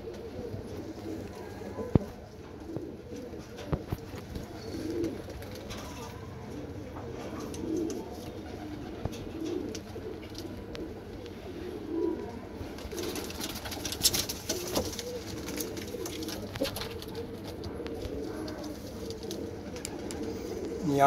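Black Madrasi pigeons in a cage coo in soft, low repeated phrases over a steady murmur of background noise, with occasional small knocks.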